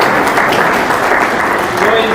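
Audience applause at a Lal Kitab astrology lecture: steady, dense clapping from a crowd that holds at an even level for the whole stretch, with no pauses.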